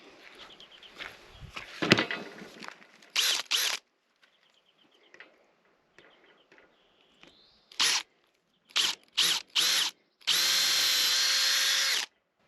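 A power drill bites into very soft metal rafters in several short bursts, each starting and stopping abruptly, ending with one longer, steady whirring run.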